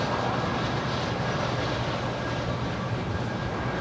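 Air China Boeing 777-300ER jet at LAX, a steady loud broadband engine roar with constant airport rumble and no voices.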